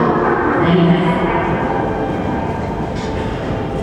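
A JR 733 series local train on the Hakodate Line pulling into a platform at Sapporo Station, heading to Otaru: steady rumbling rail noise with wheel clatter and a brief faint tone, continuous and fairly loud throughout.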